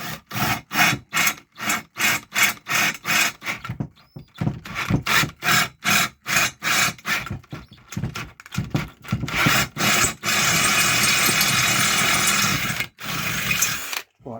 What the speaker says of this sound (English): And then we'll just drill this hole out to that size.